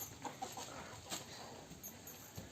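Hens clucking in short scattered bursts, some close by, over a steady noisy outdoor background with a few sharper squawks.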